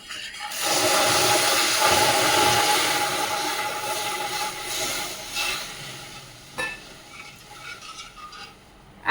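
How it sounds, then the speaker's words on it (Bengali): Water poured into hot caramelized sugar in a pan for red rasgulla syrup, giving a loud, steady hiss and bubbling seethe that starts abruptly, holds strong for several seconds, then slowly eases with a few sharper crackles. "এখন আমি এটাতে জল দিয়ে দেবো কালার ক্যারামেলটা হয়ে গেল"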